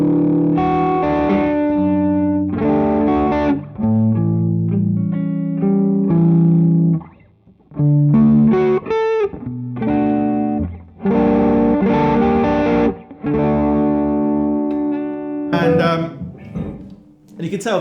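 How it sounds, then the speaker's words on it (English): Electric guitar runs through a Vemuram Jan Ray overdrive pedal, playing loud, gritty chords and single-note riffs with plenty of gain and sustain, broken by brief pauses, close and full throughout. "This is going to be what the Jan Ray sounds like."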